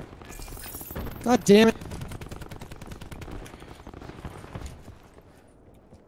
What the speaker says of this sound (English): He's behind us shooting a sniper rifle.